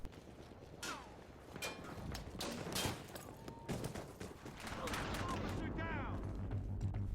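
Bursts of rapid submachine gun fire from a Battlefield video game, several short fusillades of sharp cracks with mechanical clicks between them, set at moderate loudness against a busy game background with no talk.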